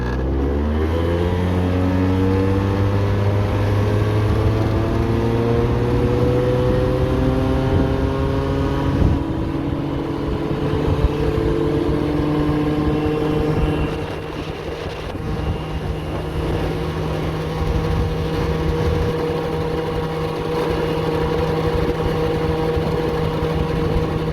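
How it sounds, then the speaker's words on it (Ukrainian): A Honda Gyro X three-wheeled cargo scooter with an air-cooled two-stroke engine runs steadily while riding, its buzzing drone rising and falling in pitch, loud and close throughout. "Двигун звичайний, двохтактний, на повітряному охолодженні"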